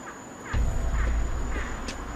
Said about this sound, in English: That's a bird now